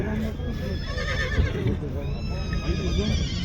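Horses whinnying at a horse market in the Komsomol district of Kyzylorda, a loud drawn-out neigh rising and falling close by, with a second call toward the end and people talking over the busy market noise.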